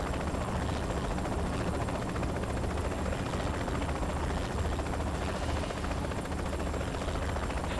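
A low-flying helicopter in the video game Saints Row The Third Remastered throbs with dense, constant rotor chop and engine drone, loud and close without a break.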